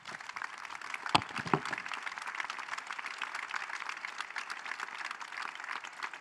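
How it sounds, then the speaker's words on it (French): Audience applause for four panelists at a large plenary session of an impact summit, steady broadband clapping throughout with a couple of sharper claps near the start, no voices. "je pense qu'on peut les applaudir"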